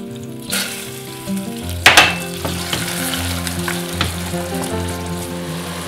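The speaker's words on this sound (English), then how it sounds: "Then I'm going to pop my butter in." Butter dropped into hot amber caramel for banoffee cupcakes erupts into a sudden loud sizzle, then keeps crackling and spitting steadily, with music playing underneath.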